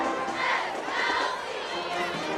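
Crowd noise at a high school homecoming football game, Southlake Carroll Dragons versus Timbercreek, on a mild evening: a steady, dense roar of many voices with a couple of swelling peaks, continuous across the whole stretch.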